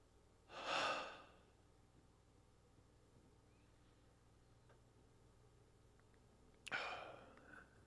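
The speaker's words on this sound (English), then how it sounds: "those exaggeratedly deep inhales and complete exhales" Two exaggeratedly deep breaths taken during a relaxation exercise, each a slow airy rush, close and clear, separated by about six seconds of near silence.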